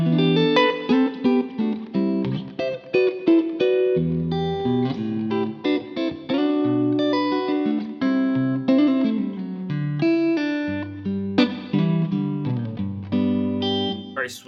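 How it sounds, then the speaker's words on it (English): A clean electric guitar riff on a Telecaster neck pickup with the reverb turned down, played alone and prominently as a steady run of melodic picked notes and chords with full, warm sustain. "I'll repeat that riff and just turn down the reverb a little bit just so you can hear the full tone of this neck pickup"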